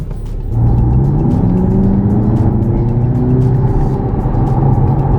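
A 2019 Audi TT Black Edition engine roars loudly up through the gears, the pitch climbing steadily as it accelerates hard, close and continuous.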